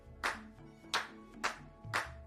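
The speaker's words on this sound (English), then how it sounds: "Let's clap. Clap, clap." Four separate claps ring out at an even pace, sharp and close, with a faint tonal hum under them and no talk.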